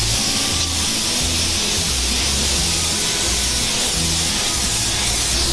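Compressed air blowing off a truck body before spray painting, a loud, steady, broad hiss that fills the whole stretch without pause, with a low rumble beneath and no talk.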